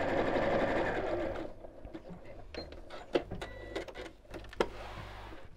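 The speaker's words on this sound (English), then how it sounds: "I'm just going to sew over that crease line so that the stitches match" A sewing machine stitches along a crease line while making a simple fabric sewing machine mat, running in short bursts with small clicks and taps after a steadier opening stretch, close and moderately loud.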